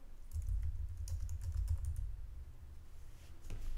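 Steady typing on a computer keyboard, a continuous run of soft key clicks at close range with a brief pause near the end, no voices.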